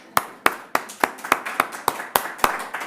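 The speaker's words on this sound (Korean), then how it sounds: "와, 박수 한번." A church congregation clapping in a slow, steady rhythm, about ten sharp, evenly spaced claps over a few seconds, close and clear, as if a few people clap in unison.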